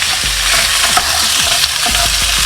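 Tuna pieces sizzle steadily in a hot frying pan, with occasional scrapes and stirring clicks of a utensil over the constant crackle, close and fairly loud, no voices.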